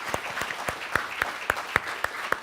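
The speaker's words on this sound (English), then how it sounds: "I hope you at least hear the applause in the room" Audience applause fills a room after a live conversation on surveillance capitalism, a dense wash of many hands clapping steadily and fairly loud, with sharper individual claps standing out at a quick, even pace.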